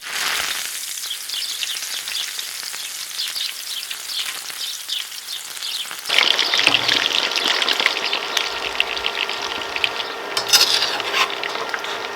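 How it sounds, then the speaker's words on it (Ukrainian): Young potatoes frying in hot oil give a steady, close sizzle that swells noticeably louder and denser about halfway through, with no voices over it. "У нас у продажу вже з'явилась молода картопля, тому засмажимо її в олії."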